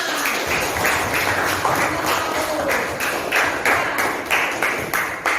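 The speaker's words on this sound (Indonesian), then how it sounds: "Ya betul, beri tepuk tangan." A classroom of eighth-grade students gives a steady round of clapping in a Christian religion lesson, dense patter sustained throughout at moderate loudness, with faint talk mixed in.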